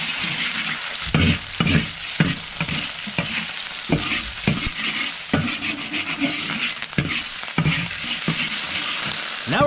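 Food sizzling and frying in a pan over an outdoor fire, a continuous crackling hiss broken by repeated scraping stirs, close and fairly loud with no talking.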